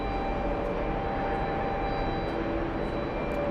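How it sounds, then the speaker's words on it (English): A jet airliner at JFK Airport spins up its engines, a steady broadband roar with a faint whine, heard from some distance as continuous even noise. "And that one's going to start its engines."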